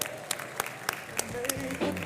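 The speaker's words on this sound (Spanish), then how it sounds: "se merece un aplauso y la gratitud por nuestra parte" Audience at a restaurant cooking master class claps in thanks, a few distinct sharp claps in loose rhythm blending into scattered applause, with people talking over it.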